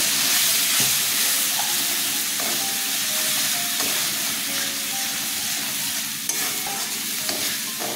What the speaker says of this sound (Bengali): ছোলাগুলো দিয়ে দিচ্ছি, সামান্য একটু জল দিচ্ছি।